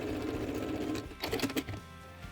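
Sewing machine stitching bias binding onto a thermal lunch bag, a short close run of quick mechanical stitching that breaks into a few uneven bursts near the end.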